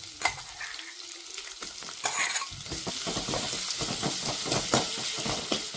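Green chillies sizzle in hot oil, starting with a short hiss and a stirring scrape, then settling into a loud, continuous crackling fry with spatters; no voices.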